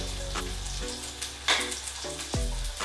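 Oil sizzles and crackles steadily as squid fries in a pan, with a few sharper pops and spits standing out.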